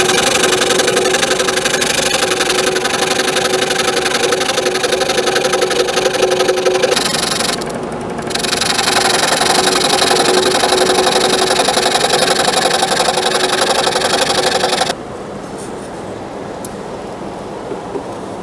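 A scroll saw cuts dovetails into cedar: a steady, loud, buzzing mechanical drone with a brief dip in the middle, then a quieter hum after the blade stops cutting.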